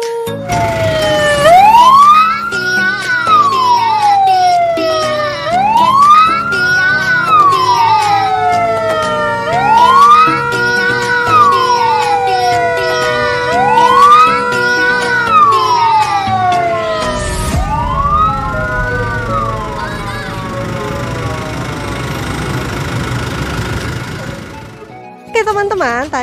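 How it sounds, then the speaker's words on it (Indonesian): A fire truck siren wails loudly and close in repeated rising-and-falling sweeps, five cycles in a row, then cuts off to leave a low engine rumble and background noise. "Sudah siap teman-teman mendengarkan suara sirene?"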